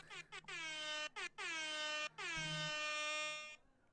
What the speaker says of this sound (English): I do not have my air horn ready.